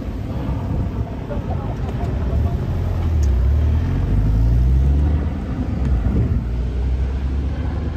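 A rally car rolls up to the starting grid at a Las Vegas rally, its engine a deep, steady rumble that swells and settles close by, with crowd noise and talk around it.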